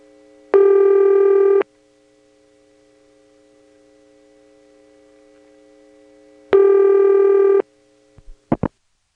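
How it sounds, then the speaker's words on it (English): A 1977 tape recording of a telephone line in Ramseur, North Carolina, carries two loud one-second tone bursts about six seconds apart over a faint line hum, then a few sharp clicks from the subscriber answering near the end. "What you just heard there was a subscriber answer, the click, partly erased because I ran the tape back and pressed record again."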